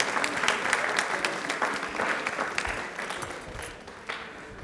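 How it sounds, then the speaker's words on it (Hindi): Studio audience at a Rajasthani TV quiz show bursts into sustained applause, dense steady clapping that slowly tapers off toward the end. "एक बार वापस से तालियां इनके लिए जोरदार वाली हो जाएं"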